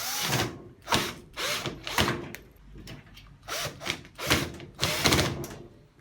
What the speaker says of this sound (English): So you screw it back in again.